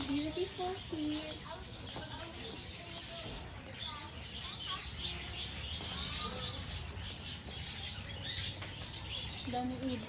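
Many small birds chirp and twitter at once in a busy outdoor chorus in Bohol, Philippines, with wing flutters and a constant background bustle.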